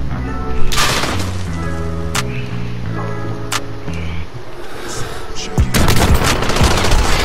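Rapid bursts of gunfire from a shotgun in an online shooter game, loud and repeated over a steady engine-like hum, with sharp shots near the start and end and heavy volleys late in the clip.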